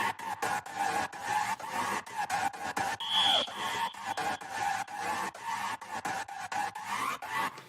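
Processed Mario Kart 8 ice-braking screech used as an automated effect in a bass house track, a raspy, pulsing texture chopped into rapid stuttering rhythm with a brief high whistle near the middle, no voices.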